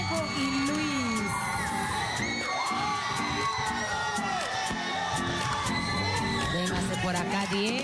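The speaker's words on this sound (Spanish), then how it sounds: "Fuerte el aplauso para Diego y Luis" A loud crowd of a singing-contest audience cheers, whoops and shouts for two performers, Diego and Luis, with dense clapping and sharp rhythmic claps cutting through the continuous roar.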